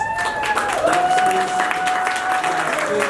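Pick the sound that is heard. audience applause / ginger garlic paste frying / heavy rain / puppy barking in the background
audience applause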